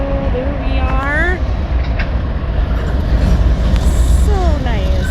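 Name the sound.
BNSF three-engine empty coal train passing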